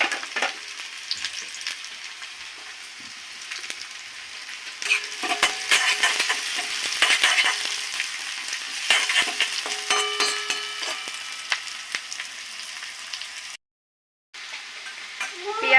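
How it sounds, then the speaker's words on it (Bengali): Chopped onion frying in a pan, a steady close sizzle with occasional stirring scrapes, growing slightly busier midway, with no talk over it. "পেঁয়াজটা ভাজা হয়ে গেছে,"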